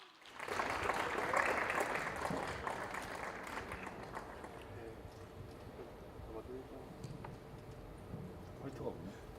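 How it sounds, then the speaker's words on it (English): Symposium audience applauding to welcome the moderator, a burst of dense clapping that swells quickly, then thins and fades over several seconds amid light room murmur. "Please welcome him with a big round of applause."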